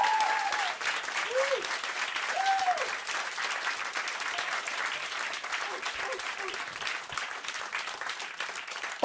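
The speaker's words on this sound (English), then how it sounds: "Please, applause for our special guest." Audience applause for a special guest at the close of a live broadcast show, dense steady clapping throughout, with a few whistles or cheers rising above it near the start.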